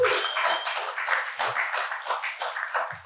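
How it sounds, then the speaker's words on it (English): Audience applause at a talk, a dense steady patter of many hands clapping close by for about three seconds, fairly loud and continuous without pauses. "you can clap"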